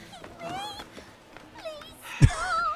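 A cat in a video game gives several short, rising meows in quick succession, fairly close, with a sharp thump near the end and a voice talking over part of it.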